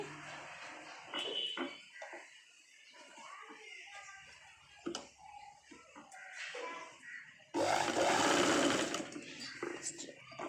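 A sewing machine stitches a Punjabi dress top in steady whirring bursts, with a longer louder run near the end, while a person talks quietly between stretches of stitching.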